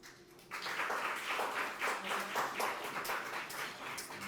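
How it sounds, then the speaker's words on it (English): Audience applause at a community event about young voters and civic power, a dense wash of many clapping hands starting abruptly and holding steady at moderate loudness for several seconds. "another round of applause"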